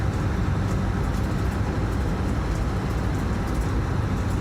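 Inside a shuttle bus RV conversion on the move, a steady, loud low-pitched engine drone and road rumble from under the nearby engine cover fill the cabin without letup.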